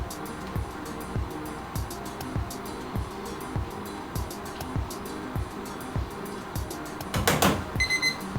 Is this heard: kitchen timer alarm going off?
yes